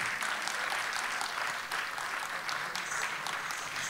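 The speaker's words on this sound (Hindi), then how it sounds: "आपकी तालियां उतनी ही जोरदार होनी चाहिए जितनी सुंदर इन्होंने प्रस्तुति दी है।" Audience applause following a kathak dance performance at a stage event honouring a kathak artist, a steady dense wash of clapping at moderate level throughout without talk.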